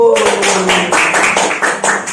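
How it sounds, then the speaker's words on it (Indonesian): Classroom applause from students in an Islamic cultural history lesson, quick rhythmic claps in close, loud bursts that repeat at a steady pace for about two seconds. "tepuk tangan untuk kita semua"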